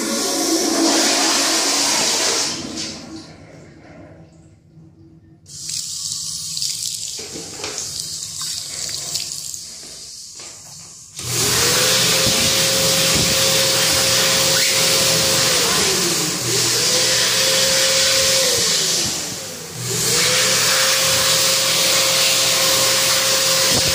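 An electric hand dryer in a public restroom blows with a loud steady roar, dropping briefly in the opening seconds, then starting again and running strongly with short pauses.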